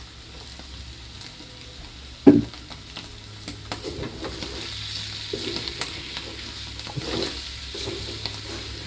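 San Marino corned tuna sisig with green chili frying and being stirred in a pan, a steady low sizzle with a sharp clatter near the start and scattered scraping stirs, no voices.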